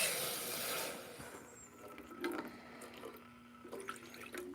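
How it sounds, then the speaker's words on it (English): Rose water poured into a jar, a thin liquid trickle and splash that is quiet and close, with a few faint clinks and no talking. "So I'm going to put the rose water."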